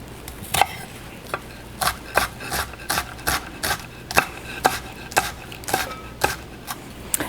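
A knife chops a shallot on a cutting board in a steady series of crisp, close taps, roughly a dozen even strikes over a quiet background.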